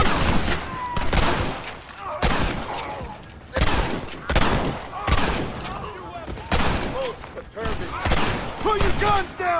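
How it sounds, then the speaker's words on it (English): A gunfight in the Xbox 360 game Red Dead Redemption gives loud, repeated volleys of gunshots in rolling bursts, with shouting voices mixed in. "Get ready to hold off their fire, Marston."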